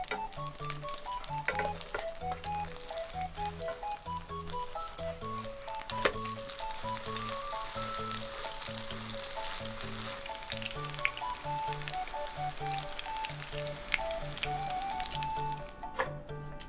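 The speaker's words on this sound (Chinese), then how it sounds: "煎至两面金黄后取出。" Tofu skin frying in a pan of olive oil, a steady close sizzle and crackle running continuously beneath background music with no talk.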